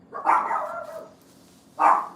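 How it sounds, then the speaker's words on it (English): A dog barks twice in a yard, close and fairly loud: one drawn-out bark and then, after a short pause, a second sharp one. "My dog's barking."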